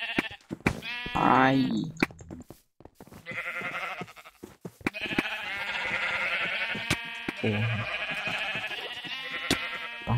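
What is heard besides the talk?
sheep bleating in video game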